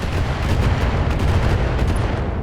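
Turrets firing in the Battletech video game, a dense, loud, continuous barrage of gunfire and booming impacts with no pause.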